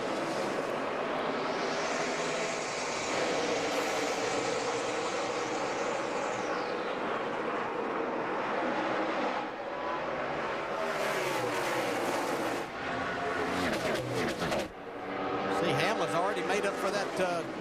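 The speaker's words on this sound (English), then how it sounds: "Jimmie Johnson in control of the restart, choosing the outside lane on the race's dominant car and driver so far, Kyle Busch" NASCAR stock cars roaring through a restart at the 2012 AAA 400, engines whining and shifting in pitch as the pack passes, loud and continuous under a race commentator's voice.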